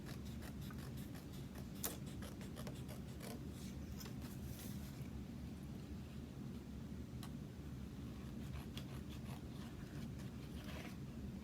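Scissors cutting along a traced line in coated paper for a picture-frame craft, heard as faint, scattered snips and crisp clicks over a quiet, hissy room.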